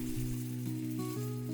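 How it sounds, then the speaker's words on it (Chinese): Squid, shrimp and chive pancakes frying in a pan give a brief, even sizzle with a faint steady hum beneath. "再来煎我们的花枝鲜虾韭菜饼，"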